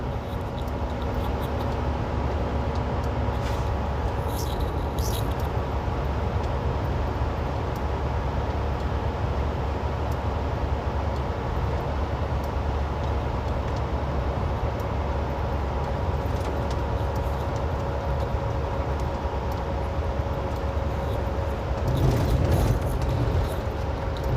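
A semi truck's engine brake runs on its first position, holding steady speed on snowy I-70 in Utah; a continuous low droning rumble with road noise persists throughout, with no talking.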